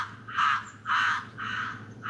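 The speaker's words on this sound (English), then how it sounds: "The shop instantly turned into a crow convention, all cawing and squawking." Crows give three loud, harsh caws in a steady rhythm, close and clear over a faint low hum, with the third call a little softer than the first two.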